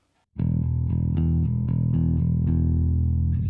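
A five-string headless bass with active pickups switched on plays a run of distinct, deep notes with a growly, slightly distorted tone, each note struck cleanly and sustained, loud and close.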